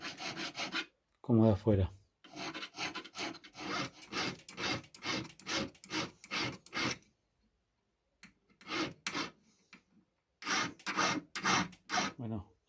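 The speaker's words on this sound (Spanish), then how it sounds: "limamos y retiramos antes de golpear para que no se desparrame más esta soldadura" Rhythmic rasping strokes of a file working solder off a metal ring, close and loud, in quick repeated bursts separated by brief pauses, with a few spoken words between strokes.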